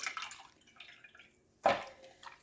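Mango seeds being washed by hand in a bowl of water, their pulp rinsed off for fajeto; soft drips and light sloshing, then one sharp close splash before the water settles again.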